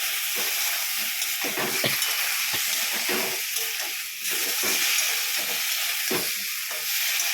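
Drumsticks fry in poppy-mustard paste with a continuous near hiss and sizzle, broken by repeated scraping stirs and clicks of a spatula against the pan, with no voices.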